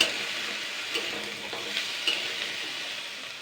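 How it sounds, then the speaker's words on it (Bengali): Potatoes fried and stirred in a pan, a soft steady sizzle with faint spoon scrapes and taps spaced through a few seconds. "এটাকে আলুটাকে জাস্ট আমি দুই মিনিট মতন হালকা একটু আগে নাড়াচাড়া করে নেব"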